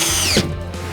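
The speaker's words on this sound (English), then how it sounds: "now we, of course, use the coarse thread screws to fasten the board" A power drill whines briefly, driving a coarse thread screw into wall board, then winds down as the screw seats, leaving a faint low hum.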